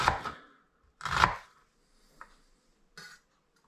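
Four knife chops on a cutting board while cutting an onion into small cubes, two loud broadband strikes followed by two lighter taps, spaced irregularly with quiet gaps between.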